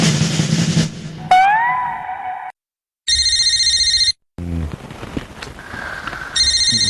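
A telephone rings in repeated electronic bursts, loud and close, separated by brief pauses and a short cut, with a few other tones and a fleeting musical sound in between.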